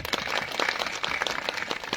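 Brief audience applause at a community gathering, a short burst of scattered clapping from a crowd at moderate distance, fairly faint and uneven over two seconds.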